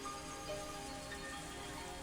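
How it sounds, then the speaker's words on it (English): Rain in the Higurashi visual novel game, a faint, steady patter of drops that continues evenly throughout with no other sounds. "It didn't look like the rain was going to stop anytime soon."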